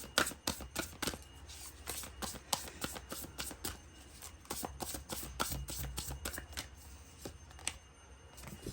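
Crisp rapid riffle of a tarot deck being shuffled close by in a quiet room, a long run of quick slapping card flicks with no talk.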